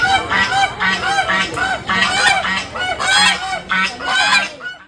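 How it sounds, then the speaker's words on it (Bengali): Two ducks squabble noisily nearby, a rapid run of harsh, repeated honking quacks coming in pulsing bursts. "লাইন দিতে দিতে এই দুটো হাঁস মারপিট করছিল দেখো"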